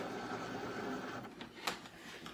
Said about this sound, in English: we're going to load it into the machine. Press that load button.